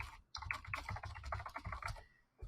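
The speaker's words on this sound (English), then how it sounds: "when I type a reflection inside here" Computer keyboard typing in a steady run of quick, close key clicks, continuing almost the whole time after a short pause at the start, with no talking.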